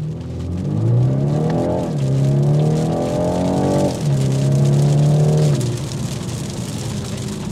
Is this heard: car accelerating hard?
yes